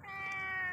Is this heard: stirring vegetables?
no